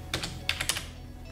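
Several quick keystrokes as a code is typed on a computer keyboard, a short irregular burst of clicks, close and fairly quiet, with no talking.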